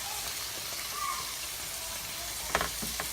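Onions with garlic salt sizzle softly in a pan after beer is poured in, a faint steady fry with a couple of small clinks near the end, no one talking.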